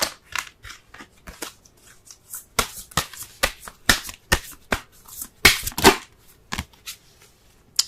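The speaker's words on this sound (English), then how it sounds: "Let's go ahead and pull a Romance Angels card." Tarot and oracle cards shuffled by hand up close, a quiet run of crisp riffles, snaps and flicks coming in irregular bursts with short gaps between them.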